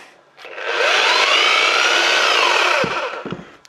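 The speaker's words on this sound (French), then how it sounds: "le perfo Bosch, vraiment le gros truc de chantier" A corded Bosch rotary hammer drill, a heavy-duty jobsite tool, spins up, whines loudly and steadily for about two seconds, then cuts off, with a brief second burst just after.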